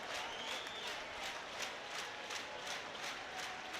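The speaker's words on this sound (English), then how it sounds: "Talking of atmospheres, guys, this crowd is ramping up." An ice hockey crowd at a Cardiff Devils versus Fife Flyers game applauds and cheers, dense rhythmic clapping with crowd noise filling the arena, heard at moderate level.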